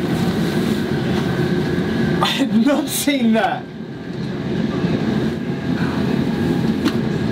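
An Irish Rail train rumbles past in a steady, loud roar, with a brief squeal partway through. Voices talk over it close by.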